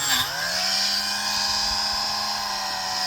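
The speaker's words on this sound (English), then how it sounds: "Then I just take one of these Scotch-Brite wheels and I go over the casting." A rotary tool fitted with a Scotch-Brite wheel spins at low speed against a diecast metal tow truck casting, a steady high-pitched whine held close and continuous throughout.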